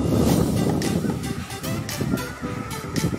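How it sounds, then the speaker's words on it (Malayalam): Strong wind gusts across a beach at dusk, a steady broad rush with buffeting surges close to the microphone, continuous throughout with faint voices in the background. "നല്ല കാറ്റുണ്ട്."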